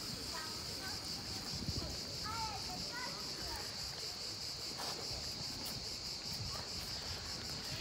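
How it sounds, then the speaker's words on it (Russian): Cicadas in Pitsunda, Abkhazia, give a steady, high, buzzing drone throughout, with a few bird chirps and faint distant ambient noise underneath. "Я думаю, здесь вот уже отчетливо слышны цикады."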